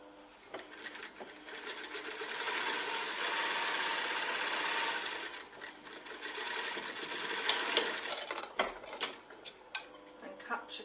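A sewing machine stitches a line along the bottom hem of a curtain lining, a steady close whirring run followed by shorter bursts and stops.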